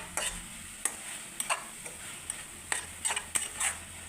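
A coconut mixture is stirred and roasted in a pan, with a spoon scraping in quiet, irregular strokes over a faint steady sizzle.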